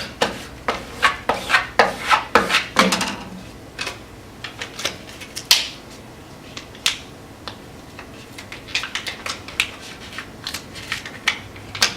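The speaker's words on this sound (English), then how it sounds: "you may have to give it a little extra rub" Transfer tape is rubbed firmly over a vinyl decal on mirror glass, a series of short, dry scraping strokes in irregular bursts, close and crisp, with quieter pauses between.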